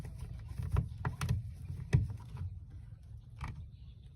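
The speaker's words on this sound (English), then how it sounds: "I tried to open and take apart the electronic device." Metal and plastic parts of an old, rusty electronic device clack and creak as it is pried open and taken apart, a few sharp close knocks scattered over a low handling rumble.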